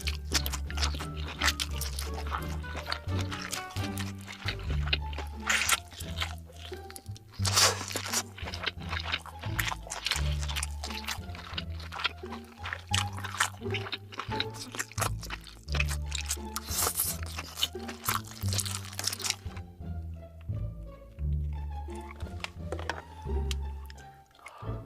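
Someone eats king crab up close in a mukbang, with loud, dense crunching of shell and wet chewing and squishing bites repeated without a break for about twenty seconds, then quieter smacking, with no talk.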